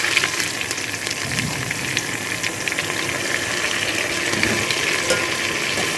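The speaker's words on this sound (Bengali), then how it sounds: "জল ঝরিয়ে রাখা চালটা দিয়ে দিচ্ছি।" Washed, drained rice tipped into hot oil with fried spices and ginger-garlic paste for white pulao, a steady broad sizzling hiss running throughout without talk.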